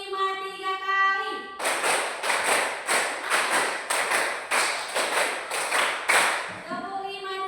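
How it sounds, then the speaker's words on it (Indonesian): A class of participants claps in rhythm, with crisp, loud group claps coming in quick threes several times in a row. Someone speaks just before and just after the clapping. "Tepuk 3 kali."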